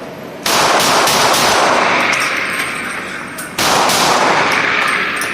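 Two loud, sharp gunshots from a CZ P10C 9mm pistol, a few seconds apart. Each crack is followed by a long, echoing decay.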